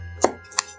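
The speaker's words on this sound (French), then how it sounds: "On va juste les couper en deux." A sharp knife slices through a tough butternut squash to halve it, giving two short, crisp cutting strokes close by, about a third of a second apart, with no talk.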